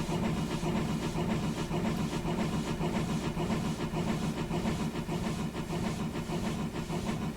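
A Hudswell Clark contractors tank locomotive in Train Sim World 2021 labours up a bank toward Weybourne, with a steady, loud, continuous engine chug and rail rumble and no voices.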